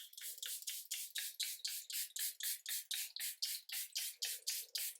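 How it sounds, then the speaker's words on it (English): Charlotte Tilbury Airbrush Flawless Setting Spray misted onto a face in quick, even pumps, about eighteen short hissing bursts in a steady rhythm, close and crisp with no talking. "I'm gonna go in first with my Charlotte Tilbury Airbrush Flawless Setting Spray"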